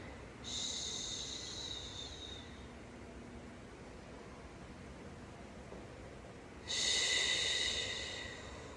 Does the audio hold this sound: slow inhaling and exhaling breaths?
yes